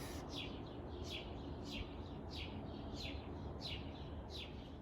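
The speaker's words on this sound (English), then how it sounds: "Listen to those birds." Repeated morning bird chirps ring out in a steady rhythm over a constant outdoor background hiss, several calls evenly spaced and moderately close.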